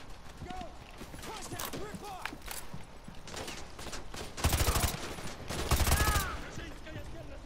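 Rapid gunfire in a shooter game mission, bursts of rifle shots crackling over a busy battlefield with louder volleys near the end, while voices talk over the action.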